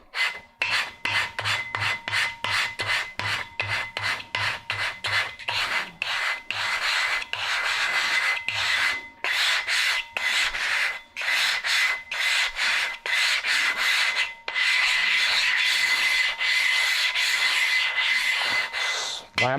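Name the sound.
hardwood block rubbing wet grit into sharpening plate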